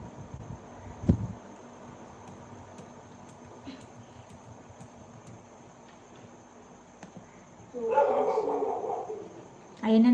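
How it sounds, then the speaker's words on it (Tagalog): Dog barking indoors at night: a sharp bark early on, then a few seconds of quiet room noise, followed by a burst of barks and yips and another bark at the end, fairly near. "Ayun na naman ang aso ko."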